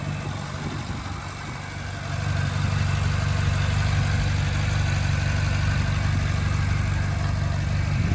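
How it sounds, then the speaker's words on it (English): The naturally aspirated V8 of a 2010 Ferrari California idles steadily with a low, throbbing rumble that swells a little louder after a couple of seconds and then holds even. "here's our naturally aspirated V8 paired with a 7-speed dual clutch transmission."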